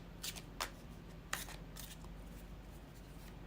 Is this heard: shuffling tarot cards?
yes